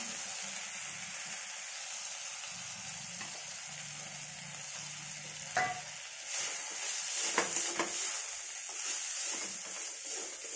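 Onions frying in a pan with ginger-garlic paste and spices, stirred for a prawn chorchori with mixed vegetables: a steady close sizzle with scraping stir strokes, a few sharper clinks near the middle and end, and no talking.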